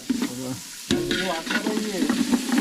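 Onions sizzle and crackle in hot oil for chicken biryani, with stirring scrapes in the pan throughout.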